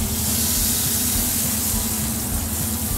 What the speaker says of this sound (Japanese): 鍋にバターを入れて、